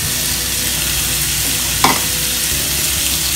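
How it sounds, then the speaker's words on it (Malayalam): Half a large capsicum frying in a pan, a steady broadband sizzle with one brief scrape or stir near the middle, no voices. "അതുവരെ നമുക്ക് ഫ്രൈ ചെയ്തെടുക്കാം"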